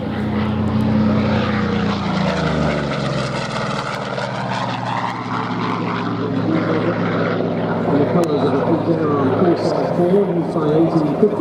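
A Vought Corsair propeller fighter flies past at an air show, its piston engine droning loudly with shifting pitch as it passes, while an announcer commentates over it.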